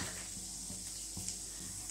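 Cumin seeds sizzling in hot mustard oil in a kadai, a soft steady hiss with faint crackles and a few light taps, quiet and close, no talk.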